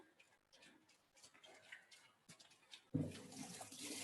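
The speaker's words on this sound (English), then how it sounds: "I love to wash my hands with soap and water" Hands are washed with soap and water: light clicks and shuffles first, then a tap gushes on near the end, a loud close stream of running water.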